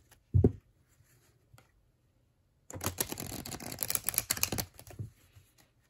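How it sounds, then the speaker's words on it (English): Oracle cards from a Seasons of the Witch Beltane deck with gilded edges are shuffled by hand: one soft tap, a pause, then about two seconds of quick, close crackling riffles that fade out. "Let's see how these cards feel when they shuffle."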